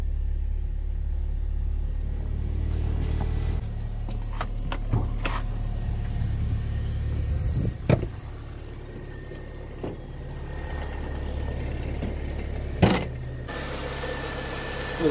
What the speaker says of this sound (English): Little four banger, non-supercharged, non-turbo, just regular.